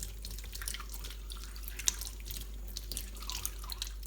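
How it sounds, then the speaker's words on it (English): Warm tap water runs into a sink for handwashing in a kitchen while a whole chicken is prepared, a quiet steady trickle with small drips and splashes and no talking. "you should be washing your hands for 20 seconds in warm"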